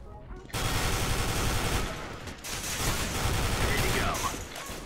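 Rapid burst of Nova shotgun gunfire in the CS:GO video game, loud dense blasts over about four seconds with shots overlapping in a continuous barrage.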